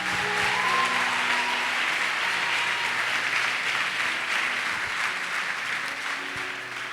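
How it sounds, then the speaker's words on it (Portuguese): A church congregation gives loud, sustained applause during a worship service, a dense wash of clapping that fills the whole stretch and tapers slightly at the end, with faint musical tones underneath. "Dê mais uma forte salva de palmas ao Senhor."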